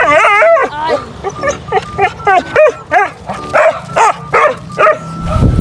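An excited dog barks, yips and whimpers in quick, loud bursts close by, with whining rising and falling between the barks.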